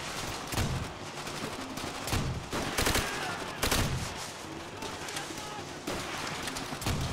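Gunfire in the World War II shooter Call of Duty: World at War, with a dense, continuous rattle of rifle and machine-gun shots and sharper nearby cracks layered over a loud battle backdrop.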